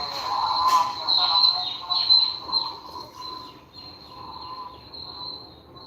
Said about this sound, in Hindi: आपको आवाज़ें आ रही हैं चिड़ियों चहचहाने की?